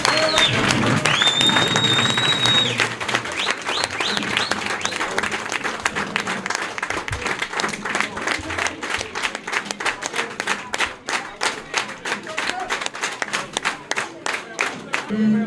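Applause and cheering for president Abdoulaye Dièye at a political gathering of the And Siggil coalition in Thiès, a loud crowd with whistles early on that settles into sustained, rhythmic clapping.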